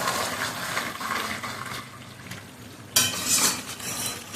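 Biryani meat is stirred in a pot, with a continuous scraping, sizzling texture and occasional clinks of a utensil against the metal, close and steady, with a louder scrape near the end.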